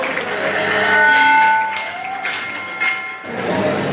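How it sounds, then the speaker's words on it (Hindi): Loud applause from a gathered crowd at a community event honoring students, with dense clapping running throughout and sustained whistles or tonal cheers riding over it. "जोरदार तालियां आपको"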